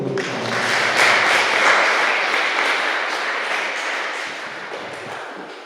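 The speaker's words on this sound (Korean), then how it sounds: "다시 한번 축복의 박수 드립니다" A church congregation bursts into applause, a dense wash of many hands clapping together that swells quickly, holds steady and slowly fades toward the end, with no voices over it.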